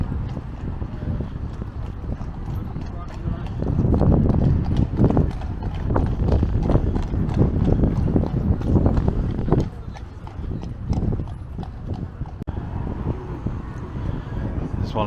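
Horse-drawn Cinderella carriage clip-clops along the Blackpool seafront promenade, a steady rhythmic run of hoofbeats on the roadway with outdoor street noise, and people talking nearby.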